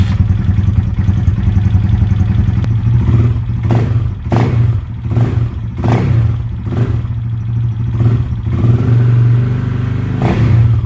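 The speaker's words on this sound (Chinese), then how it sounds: "先大家听一下发动机声浪" A KTM off-road adventure motorcycle's liquid-cooled 942cc four-stroke 75-degree V-twin idles loudly and close, then snaps through a series of sharp throttle blips, each rev rising and falling quickly before settling back to a lumpy idle.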